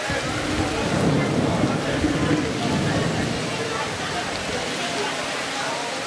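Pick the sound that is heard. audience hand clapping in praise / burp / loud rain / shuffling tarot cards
loud rain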